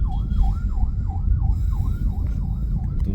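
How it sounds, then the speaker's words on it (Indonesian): An ambulance siren wails in a steady repeating up-and-down sweep as it passes, loud over a rumbling traffic background for about three seconds. "ada ambulan bentar"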